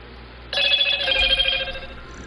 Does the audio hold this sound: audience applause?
no